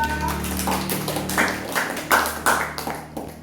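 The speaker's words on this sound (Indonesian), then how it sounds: "Kita berikan aplaus lagi untuk kelompok 2." Classroom applause for a presenting student group during a teaching practice session: scattered, uneven hand claps from a modest group, fairly near, with some murmuring beneath.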